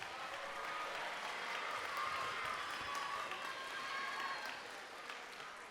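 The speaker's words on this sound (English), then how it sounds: "How about one more big round of applause for the Bucket Band?" Steady applause from a concert audience after a bucket band's set at a spring school band concert, dense clapping sustained at moderate level for several seconds without letting up.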